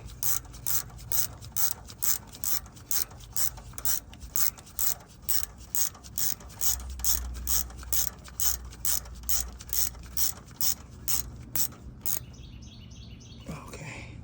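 A ratchet tightens bolts on a 2008 Ford Edge AC compressor in a long run of quick, regular clicks, close and fairly loud, before stopping near the end and giving way to a few light metallic taps.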